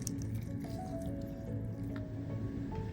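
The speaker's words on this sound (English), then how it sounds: "I'm just gonna squeeze the lemons into a bowl so I can remove the pit" Fresh lemons squeezed by hand into a bowl for homemade applesauce, giving continuous wet squishing and dripping juice, close and moderately loud, with no talking.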